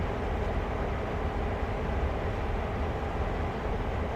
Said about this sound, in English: These cars couple up automatically. All you got to do is reverse into them, and somehow all the hoses connect as well.